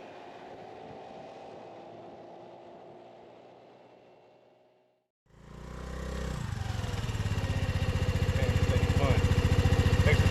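A Honda Navi mini motorcycle is ridden outdoors: a steady engine drone fades to a brief near-silence, then the motor rises again louder and rougher with wind rush, running continuously to the end.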